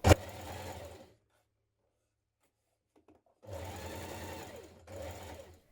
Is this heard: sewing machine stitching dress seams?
yes